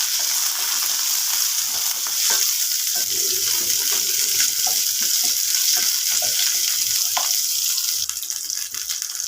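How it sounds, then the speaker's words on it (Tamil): Black urad dal, chana dal and cumin sautéing in a pan with onions, a steady broadband hiss of frying with a few faint scrapes of stirring, constant and fairly loud throughout. "நல்லா வதங்கட்டும்"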